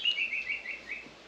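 A guinea fowl call played through a smart speaker, a short run of faint, high, repeated chirping notes over a quiet background, lasting just over a second.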